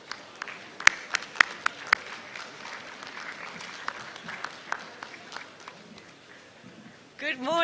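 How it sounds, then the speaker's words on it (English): Audience applause welcoming a guest speaker at a graduate induction ceremony, a crowd clapping steadily with a few sharp, close claps standing out, and a voice starting to speak at the end. "Shall we be upstanding as we welcome her with a round of applause?"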